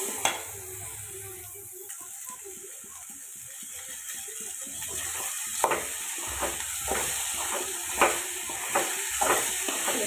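Food fries in a pan in a home kitchen, giving a steady, close sizzling hiss. Scattered clicks and scrapes of stirring grow busier in the second half, with no one speaking.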